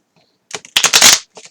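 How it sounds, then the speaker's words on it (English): Small mini Rider-Waite tarot cards are riffled and shuffled by hand in a few quick, crisp bursts of flapping and clicking, loud and close, with brief pauses between them. "It's kind of hard to shuffle because they're so teensy"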